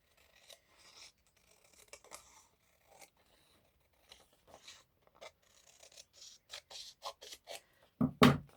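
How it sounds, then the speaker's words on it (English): Scissors snip through paper for a junk journal in a run of quiet, close cuts, soft at first and then sharper and quicker, ending in a louder rustle; no one speaks. "I might just snip this bit off now as well."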